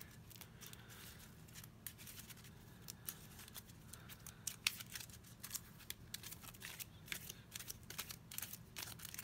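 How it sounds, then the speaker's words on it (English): Sleeved playing cards shuffled during a solo game of Villainous: faint, quiet riffling and shuffling with repeated soft card clicks and slaps, close by, no talking. "good thing about having the sleeves on the card is it makes shuffling them a lot"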